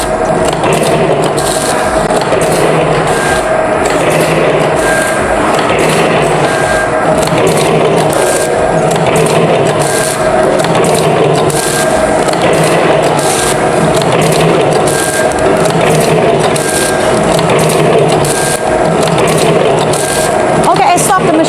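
Automatic powder sachet packing machine of the ATM-320D type, with vertical side sealing, end sealing and date printing, runs with a steady, loud mechanical clatter and rhythmic cycling throughout.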